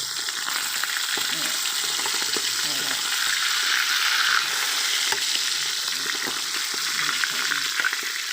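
Mackerel frying crisp in hot oil, a dense, steady sizzle and crackle running loudly and continuously, with occasional sharper spits and pops.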